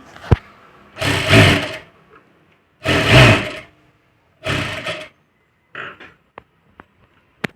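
A sewing machine whirs in three steady bursts of stitching while katori blouse cup pieces and their lining are sewn together, followed by a few light clicks and taps of fabric handling.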